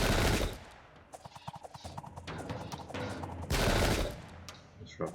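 Musket volleys fire in the Sengoku Jidai video game during the defence of Nagashino, two loud crackling bursts of massed gunfire separated by quieter battle noise.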